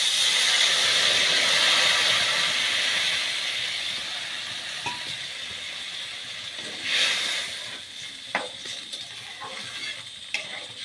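Water poured onto roasted flour in a hot pan erupts into a loud hissing sizzle that fades over a few seconds, followed by quieter steaming and intermittent scraping stir strokes.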